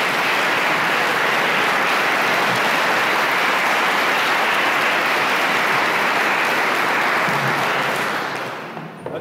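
Sustained applause from a large concert audience at a brass band performance, dense and steady clapping that continues evenly before tapering off at the end.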